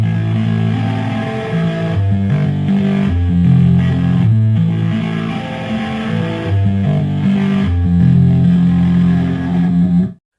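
The Super Mario Bros jump sound run through distortion and a clean amp preset is played as a heavy Metallica-style riff: gritty, loud chugging notes in a driving rhythm, continuing for about ten seconds before stopping abruptly.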